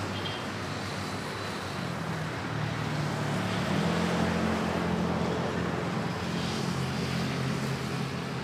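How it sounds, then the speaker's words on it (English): A Singapore Airlines Airbus A350-900 airliner, flight SQ910, at Manila airport gives off a steady broad jet roar with a low droning hum, swelling a little midway and holding fairly loud throughout, with no talking. "And right behind, Singapore A350-900."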